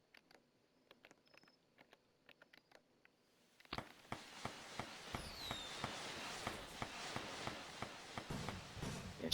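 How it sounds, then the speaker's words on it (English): Fireworks in the Roblox game Greenville on the 4th of July, a few faint pops at first, then a rapid, regular string of sharp bangs over a loud crackling roar. "Yeah, shooting fireworks on the 4th of July."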